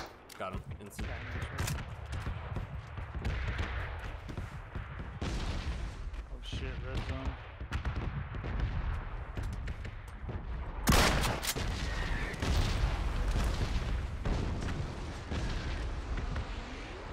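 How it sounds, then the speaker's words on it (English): Gunfire in PUBG on the Miramar map, a scattered series of shots and one loud sharp blast midway, heard under ongoing voice chat with several players talking. "Is that you shooting just now?"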